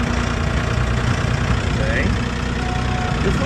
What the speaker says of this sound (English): This little tractor is doing a heck of a job